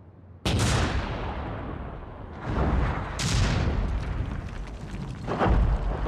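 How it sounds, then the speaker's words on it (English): Test blasts for demolishing the HiRISE tower: several loud, sharp explosive booms at irregular intervals, each followed by a rumbling decay. "Normally, they use test blasts to see how a structure will react to this type of demolition."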